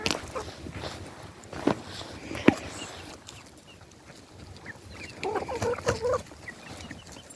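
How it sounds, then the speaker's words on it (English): Young chickens, grown chicks with a rooster among them, cluck in short irregular bursts nearby on a homestead garden farm, with some soft footsteps and rustling between the calls. "These are all the baby chicks."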